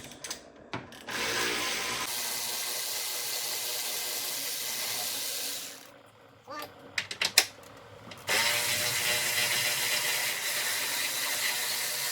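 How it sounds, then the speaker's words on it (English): A ratchet tightens bolts on a Genesis G70 air intake during an aftermarket BMS intake install, with two long runs of rapid ratcheting clicks close up and a few handling knocks between them. "Always hand thread first, and then go with your ratchet"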